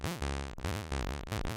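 A pitched, harmonic sound run through a windowing audio effect, chopped into short repeating segments with brief gaps between them, loud and close with no other sounds.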